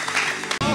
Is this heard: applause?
yes